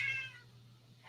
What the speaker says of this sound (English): If you guys can hear my cat in the background,